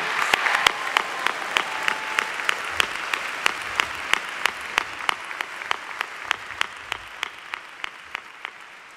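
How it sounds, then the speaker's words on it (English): A large audience applauds at a college commencement ceremony, a dense, steady wash of clapping with sharp individual claps standing out, sustained throughout without talk. "Can we please give them a round of applause?"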